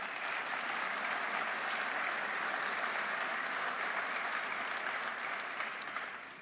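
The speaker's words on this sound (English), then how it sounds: "So let's give them a round of applause." An audience at a space-domain defense event applauds in a steady, dense wash of clapping that holds for several seconds and fades slightly at the end.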